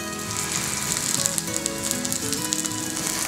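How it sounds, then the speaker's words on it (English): Cajun-spiced fish fillet sizzles skin-side down in a hot pan, a steady loud frying crackle running continuously without pause, heard close up with no voices. "Now we'll just cook it very briefly to cook the underside of the fish and to very slightly crisp the skin."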